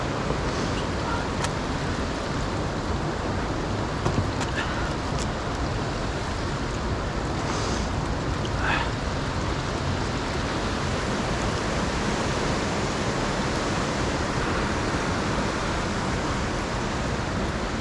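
Rushing water at Cucumber Rapids, a boulder-field stretch of river running high, forms a steady, loud, continuous roar with no breaks or voices.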